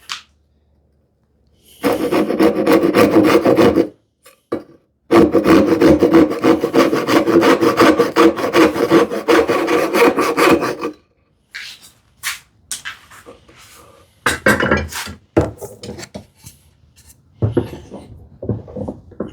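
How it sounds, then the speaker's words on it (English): A dovetail saw cuts through wood in long bursts of steady, raspy back-and-forth strokes, close and loud, broken by pauses and ending with short, scattered strokes. "So I'll turn it around my dovetail saw and then saw from this end."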